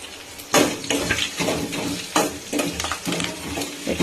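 Green chillies and finely chopped ginger frying in a pan, a continuous close sizzle with repeated stirring and scraping of a spatula against the metal, in irregular bursts.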